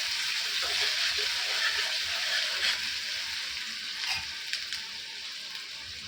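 Garlic frying in a pan for cluster bean bhaji, a dense, steady close sizzle that hisses continuously, with a few faint clicks and pops over it and no talking.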